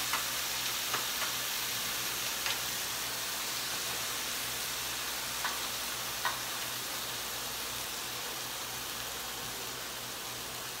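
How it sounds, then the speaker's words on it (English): Corned beef sears in a hot pan with a steady, dense sizzle and a few faint clicks, continuous and close with no talking. "we're going to braise off of this corned beef. And let that sear that off."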